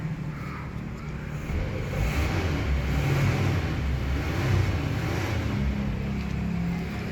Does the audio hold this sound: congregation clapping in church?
no